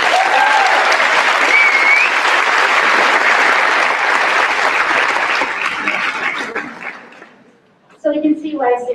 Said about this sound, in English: Round of applause for Sarah Weed